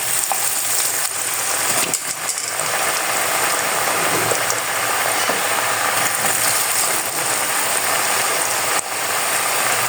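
French fries frying in hot oil, a dense, continuous bright crackle and bubbling hiss that stays loud and close throughout with brief dips, no talk.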